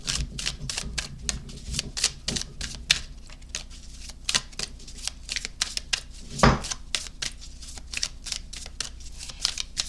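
Oracle cards are shuffled close up in rapid, rhythmic bursts of papery slaps and flutters, loud and continuous with no speech.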